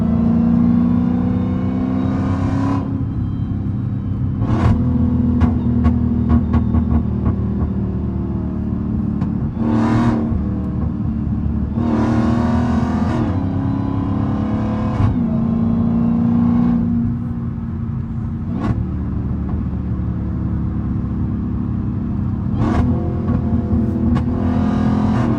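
A Dodge Hellcat's engine drones steadily from inside the cabin, with the revs climbing again and again in surging bursts of acceleration and some sharp cracks between them, loud and continuous throughout.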